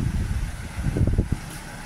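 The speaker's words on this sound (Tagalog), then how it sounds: "Yan, malakas pa rin ang hangin dito sa amin bayan." Low, steady wind rumble buffeting the microphone, with a few brief gusty thumps toward the middle, as strong wind lingers in a Philippine town after Typhoon Saola.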